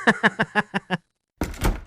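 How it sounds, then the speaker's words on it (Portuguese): Six quick evenly spaced knocks or thuds ring out, then brief silence, then a heavier closing thump with rattle as a door shuts at a morgue at night. "A porta se fechou atrás dele."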